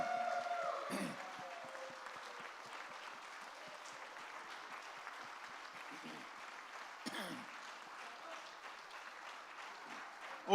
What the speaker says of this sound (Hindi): जोरदार तालियां एक बार और.